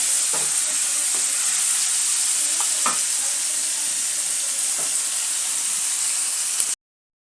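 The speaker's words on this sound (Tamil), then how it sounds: "ஒரு டூ மினிட்ஸ் இப்படி வதங்கட்டும் தக்காளியெல்லாம் நல்லா இந்த ஸ்கின்னெல்லாம் வதங்கணும்" Tomatoes for chutney sauté in a hot pan, a steady bright hissing sizzle broken by a few light clicks of a stirring spoon before the sound cuts off abruptly.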